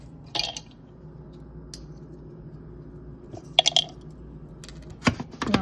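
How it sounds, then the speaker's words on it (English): Dry roasted, unsalted pistachios being crushed, heard as sparse sharp cracks and clicky crunches in short clusters over a quiet low hum, with long gaps between bursts. "we need to crush the pistachio"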